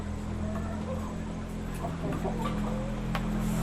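Laying hens cluck softly and intermittently over a steady low mechanical hum, with a few sharper calls near the end.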